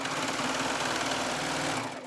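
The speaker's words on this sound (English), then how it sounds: "I'm just gonna slide the fabric right next to the blade and serge." Serger overlocker stitching a T-shirt neckband seam, running fast and close with a steady rapid mechanical chatter that slows and stops at the end.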